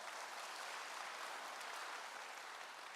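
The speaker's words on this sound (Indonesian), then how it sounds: "Tepuk tangan bagi Allah kita." Applause from a church congregation, a dense, steady wash of many hands clapping at once, heard at a distance and fairly quiet, with no talk over it.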